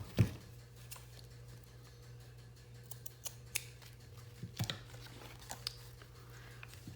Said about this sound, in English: Where's my material scissors?